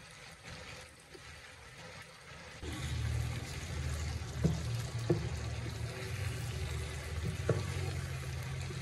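Koi fish frying in hot oil with spices and potatoes, a steady loud sizzle that swells as the fish go into the pan, with a few sharp clinks of a utensil against the pan.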